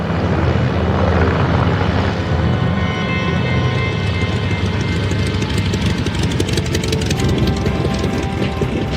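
A WWI-era propeller biplane aborting its landing and flying past, a loud continuous engine drone filling the whole stretch with a rough, throbbing texture and no voices.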